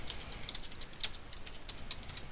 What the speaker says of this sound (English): to edit this text, it's just a matter of typing in the box.